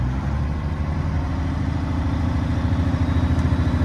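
A Unimog 416 engine running steadily in first gear, a low, continuous diesel rumble with a slight clatter, close and fairly loud throughout, with no talking.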